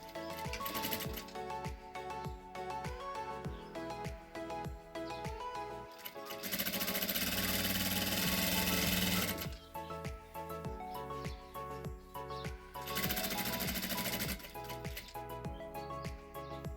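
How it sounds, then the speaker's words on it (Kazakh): A sewing machine stitches through fabric in a rapid, evenly ticking rhythm, broken by two denser, louder bursts of faster running, close and without any talking. "Енді соған қарама қарсы мына бетін тігемін."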